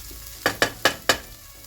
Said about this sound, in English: just give that a quick stir.